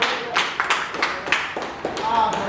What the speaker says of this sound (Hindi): एक बार इमरान के लिए जोरदार तालियां।